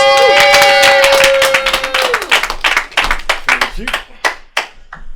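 Comedy club audience claps and cheers as a comedian is introduced, a steady burst of applause that thins into scattered claps and whoops, with a host's voice over the start.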